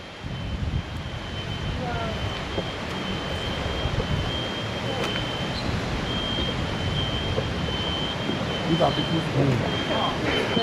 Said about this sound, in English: I hear this. The sound of smoke alarms disconnected.